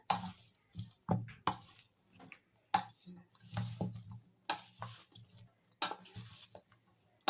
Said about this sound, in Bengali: এখন একটু ভালো করে শুকনো মেখে নিয়ে তারপর তেল দেব